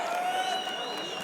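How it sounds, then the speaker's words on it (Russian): Audience applause and crowd noise fill the arena at the NAIZA 59 fight event, a brief, steady wash of clapping with a faint tonal ring drifting over it. "Аплодисменты."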